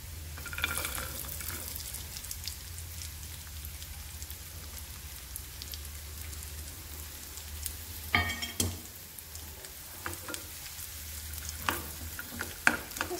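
Raisins and cashew nuts roasting in a pan for bottle gourd halwa, giving a steady low sizzle with occasional stirring scrapes and clinks, close and moderately quiet, no talk.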